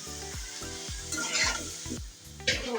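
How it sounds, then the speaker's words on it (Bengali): Bottle gourd pieces sizzle and fry in a spiced masala while a spoon stirs them in a pan, with repeated scraping strokes in a quick rhythm over continuous crackling, close and fairly loud, with no voices. "এখন আমি লাউগুলো দিয়ে দেবো, দিয়ে এখন ভালো করে নেড়ে মিশিয়ে নেব।"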